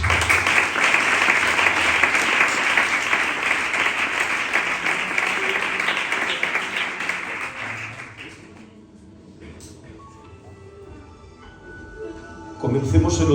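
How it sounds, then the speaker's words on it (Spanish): A church congregation applauds in a large hall, with dense sustained clapping for about eight seconds that gradually fades out, followed by quieter room sounds and a brief burst near the end. "Un aplauso para el Señor"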